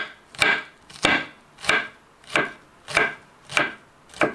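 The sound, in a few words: knife finely chopping shallot on cutting board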